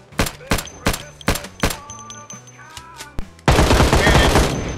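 Machine gun fire in a video game: a rhythmic burst of about six loud, evenly spaced shots, then a few scattered thumps, ending in a dense continuous crackle of rapid fire.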